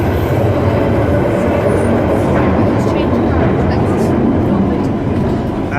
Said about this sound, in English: So we are currently on the train right now.